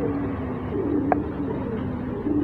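Homing pigeons returning to their loft give soft, low cooing against a steady background murmur, with a brief faint chirp partway through.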